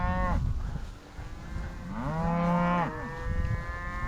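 Cattle mooing on a ranch as a calf stays close to its cow, several drawn-out moos at moderate distance, one early and a longer, louder call in the middle, with faint calls around them.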